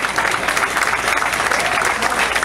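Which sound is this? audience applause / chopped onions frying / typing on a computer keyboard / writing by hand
audience applause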